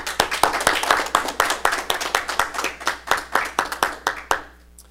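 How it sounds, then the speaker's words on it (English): A small Toastmasters club audience claps for the day's Toastmaster, a few close, distinct hand claps in a quick uneven rhythm that thins out and stops near the end. "Let's give our Toastmaster for today a round of applause."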